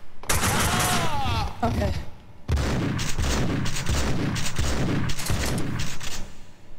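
Dense gunfire from the Max Payne 2 video game, rapid overlapping shots and bursts filling the whole stretch at close, loud level, with a brief voice speaking over the shooting.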